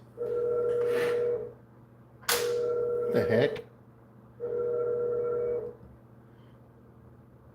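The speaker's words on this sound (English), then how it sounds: "My phone was ringing." Phone ringtone played through a Bluetooth speaker, three long sustained tonal bursts with steady pitch separated by short pauses, loud and close, with a brief startled voice in between.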